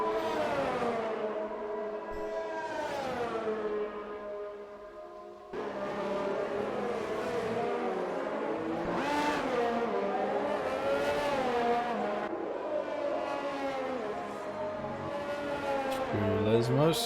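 Race car on a flying lap around the Italian Grand Prix circuit in a racing video game, its engine whining up through the gears in rising sweeps with sharp shifts, sustained and loud.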